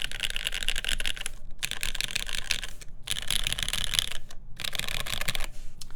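Typing on a CAKE60 mechanical keyboard: a close, dense clatter of keystrokes in bursts of about a second, separated by short pauses, with no voices.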